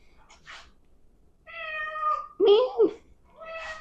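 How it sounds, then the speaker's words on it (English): Cats meow in a home kitchen where pasta Alfredo is being prepared, with several clear, drawn-out meows close by, separated by short pauses and mixed with faint background noise. "Cats are meowing. They want to help."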